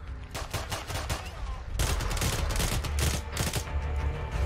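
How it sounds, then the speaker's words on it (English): Rapid gunfire in the Arma 3 video game, a dense stream of sharp, loud shots continuing steadily with a heavier stretch in the second half, no talk over it. "What are you shooting that thing with a handgun for?"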